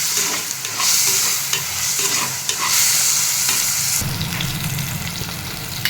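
Okra sautéed in oil in a new clay pot sizzles steadily up close, with continuous stirring scrapes and clatters and no voices.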